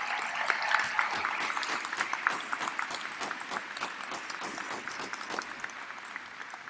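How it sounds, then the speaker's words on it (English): A crowd of graduates, family and friends claps steadily and cheers at a university spring commencement ceremony in an indoor arena, the dense applause sustained and fairly loud throughout. "I think that's worth the cheer."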